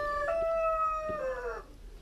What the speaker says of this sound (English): So there we go, 5 new chickens.